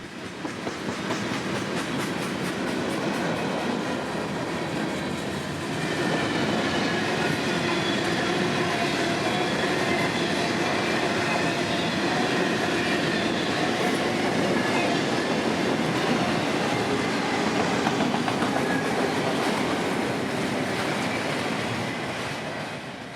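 A long Norfolk Southern freight train of empty auto racks rumbles steadily past close by in North Florida, wheels clattering continuously at a loud, even level with no voices.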